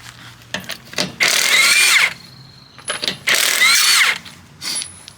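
Power tool spinning off the lug bolts on a Volvo V70 wheel, two loud, close, roughly one-second whirring bursts, each with short rattling clicks and clunks around it.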